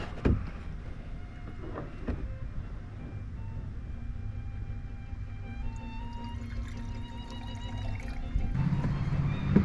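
Fluid glugs and trickles as it is dumped straight into the open block of an abandoned Volvo 740 D24t turbo diesel, a steady pouring wash with a couple of clunks near the start and a louder splash at the end.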